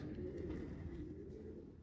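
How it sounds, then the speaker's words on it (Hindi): A female pigeon cooing at close range, a steady low murmuring coo that runs continuously through the whole short stretch with no talk over it. "ये देखें कबूतरी देख लें"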